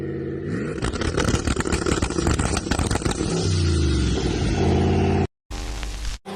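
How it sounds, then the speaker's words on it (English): A Dodge car drifting, its engine revving hard with rising and falling pitch and tyre noise, loud and close, ending in a sudden cut and a brief burst of other sound. "This Dodge drifts a little bit."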